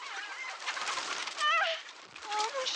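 Hens in a henhouse give clucking, cooing calls in short warbling bursts over a steady rustling background, a few calls rising louder midway and near the end.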